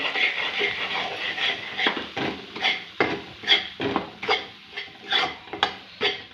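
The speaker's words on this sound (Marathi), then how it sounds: "आपण हे तूप टाकून घेणार आहे आणि जे आपल्या वरई साबुदाण्याचं पीठ आहे हे छान असं भाजून घ्यायचं आहे" Barnyard millet and sago flour roast in ghee in a hot kadhai as a spatula scrapes and taps against the pan in an uneven rhythm, close and fairly clear, with no talk over it.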